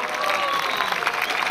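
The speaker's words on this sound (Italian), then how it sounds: "Questo uomo merita veramente un ultimo grande applauso." A crowd at an Italian jazz concert in the Basilica di Collemaggio, L'Aquila, gives a final ovation, with dense, loud clapping, a murmur of cheering and faint tonal background sounds under it.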